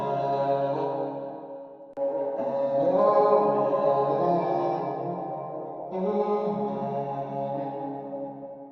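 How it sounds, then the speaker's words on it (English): A chopped vocal loop plays as melodic sung fragments cut into segments with abrupt edits every couple of seconds, sustained and tonal, alone in a beat without spoken talk. "I've also like got this vocal loop from Splice and then chopped it up"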